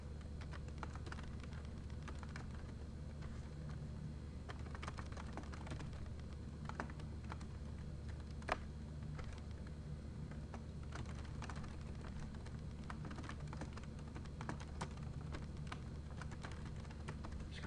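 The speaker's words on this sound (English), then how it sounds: "I'm going to type in the address here." Quiet, steady typing on a computer keyboard while an address is entered, soft key clicks running throughout over a low background hum.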